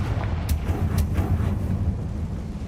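A Confringo fire spell in Hogwarts Legacy bursts into a heavy, rumbling explosion, with a few sharp cracks over a deep, sustained roar that fills the short stretch, no talking.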